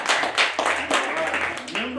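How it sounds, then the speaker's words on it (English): A room of meetup attendees claps for a speaker named Jack, a short burst of dense clapping heard close and fairly loud while someone talks over it. "Round of applause for Jack"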